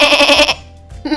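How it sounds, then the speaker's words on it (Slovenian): A goat gives one loud, close bleat that breaks off into a brief quiet pause before another bleat begins. "Koza."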